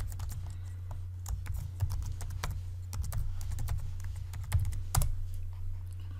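Rapid keystrokes on a computer keyboard type a username and password, with irregular bursts of clicking over a steady low hum.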